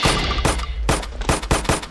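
Rapid bursts of gunfire from a Minecraft Free Fire game mod ring out as loud, sharp shots, several in quick succession across two seconds.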